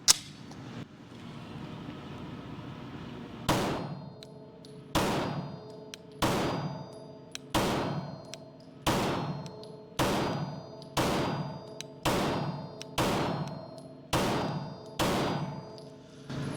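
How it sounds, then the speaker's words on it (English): A PSA Dagger full-size 9mm pistol fires a ten-round group, sharp individual shots spaced roughly a second apart in a steady rhythm, outdoors at a range and fairly close, with no talking between them. "I'm going to do a 10-round group just to start the test off nice and smooth and see how accurate it is."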